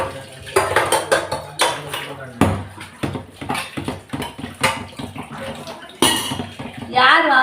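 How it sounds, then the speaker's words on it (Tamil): Dishes and metal vessels being washed and stacked in a home kitchen sink, with repeated clanks and knocks of pots and cutlery, splashing water and someone talking over the clatter at close range. "இப்போ பாத்திரத்தெல்லாம் கழுவிட்டு இன்னும் வச்சு அடுக்கி வச்சு போகிறேன்."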